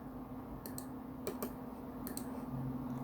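Keyboard shortcuts are pressed on a computer keyboard during 3D modeling, heard as a few soft, paired key clicks over a low steady hum.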